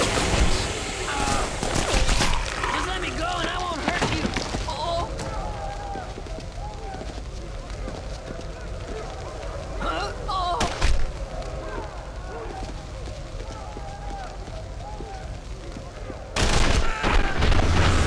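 Dense bursts of gunfire in The Punisher PS2 game, loud overlapping shots and booms rattling nearly nonstop, with game voices and music layered underneath.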